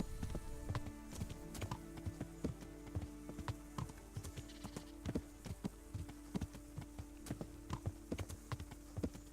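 Rhythmic horse hoofbeats in the video game Kingdom Come: Deliverance clip-clop quickly and evenly at a gallop, crisp and close, with a faint steady background hum.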